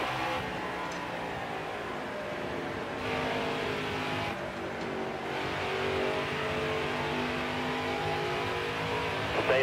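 NASCAR stock cars roar in the racing game NASCAR Heat 4, a dense sustained engine drone with revving swells and passing cars, loud and continuous without a break.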